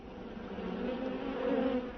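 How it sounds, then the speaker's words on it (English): Bees hum in a glass observation hive kept inside a house, a steady close buzzing drone that swells slightly louder toward the end, with no voices over it. "My observation hive."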